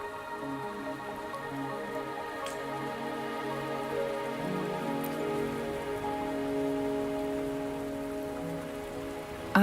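Rain falling in the video game Wuthering Waves, a steady soft patter on surfaces with a few sharper drips, continuous over a low sustained musical drone.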